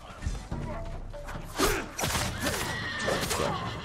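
A horse neighs in the video game Ghost of Tsushima, with a loud whinny rising and falling amid hoof clatter, whooshes and combat noise, while players talk over it.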